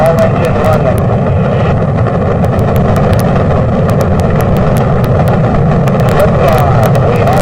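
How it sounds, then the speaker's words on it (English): Apollo 11 rocket engines roar continuously at liftoff, a loud, dense rumble with crackling bursts on top and no letup throughout. "Liftoff, we have a liftoff, 32 minutes past the hour. Liftoff on Apollo 11."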